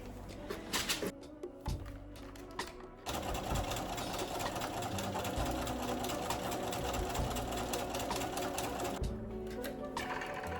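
A sewing machine topstitches a flat felled seam on a pair of pants, starting with a few short bursts of stitching and then running in a long, steady mechanical whir before stopping again.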